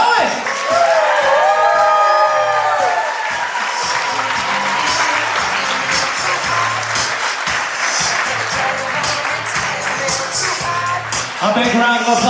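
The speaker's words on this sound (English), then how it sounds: "let's give it up for father of the groom, Frank Simonetti, escorting his wife, Maria" Wedding guests clap and cheer as the groom's father escorts his wife in, a dense, sustained round of applause with whoops rising over it, while an announcer talks loudly above the crowd.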